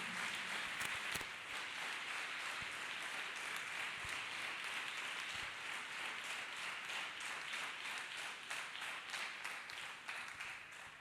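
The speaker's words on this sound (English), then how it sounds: "So let us clap hands for the office of the Lord God Almighty" Church audience claps hands in a sustained, even wash of applause, fairly faint and distant, with a few sharper individual claps standing out near the start.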